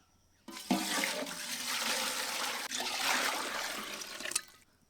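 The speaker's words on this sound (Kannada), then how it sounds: "ರಾಗಿ ಮುದ್ದಿ ಮಾಡಕ್ ನೀರು" Water pours into a cooking pot for ragi mudde in a steady, loud, splashy gush lasting about four seconds, then cuts off, heard close with no talking.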